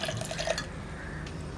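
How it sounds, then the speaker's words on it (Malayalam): Cold water poured into the jug of watermelon lime juice, a brief liquid trickle with a few light dripping splashes at the start, fading into a quieter, steady pour. "പിന്നെ നമ്മൾ ചേർക്കുന്നത് തണുത്ത വെള്ളമാണ്"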